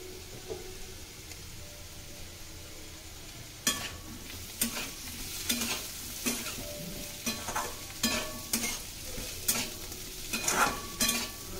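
Boiled potatoes with chopped tomatoes being stirred in a pan for a dry aloo chana dish: a soft sizzle at first, then a run of sharp, close scrapes and knocks of the spoon at an uneven rhythm.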